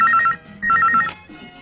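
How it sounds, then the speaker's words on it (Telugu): Close, loud ringing of a phone: rapid warbling trills in two bursts, then a short quieter tail. "ఫోన్ తీయండి"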